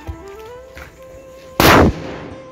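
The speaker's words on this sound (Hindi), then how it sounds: "ये सुतली बम यहाँ पर फोड़ रहे हैं" A single loud sutli bomb firecracker explodes nearby in a sharp, booming blast, preceded by quieter outdoor background noise, during Govardhan Puja.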